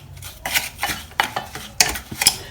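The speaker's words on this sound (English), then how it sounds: "And then we're just going to mix all of that together." A utensil stirs melted butter into a coffee cake crumb topping in a bowl, making uneven scraping and clinking strokes nearby. There is no talking.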